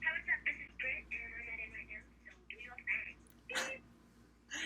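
A phone rings in repeated electronic trills over music in a song from a 2000 album, with a voice briefly talking in between.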